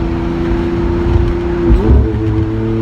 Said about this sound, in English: Up in front of us, the red Aventador SV.